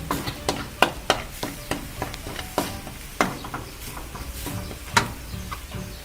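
Dried chilies dry-roasted and stirred in a pan, giving a quiet, steady rustle broken by frequent sharp scraping and tapping clicks of a utensil against the pan at an irregular rhythm.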